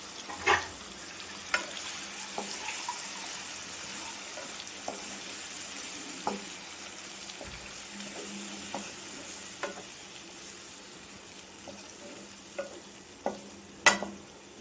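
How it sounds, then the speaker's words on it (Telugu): Paneer pieces sizzle steadily in a pan as tomato puree goes in, with occasional sharp clicks and scrapes of stirring over the continuous frying hiss. "పన్నీర్ ముక్కలు కొంచెం వేగాక మనము టమాటా ప్యూరీని వేసుకోవాలి."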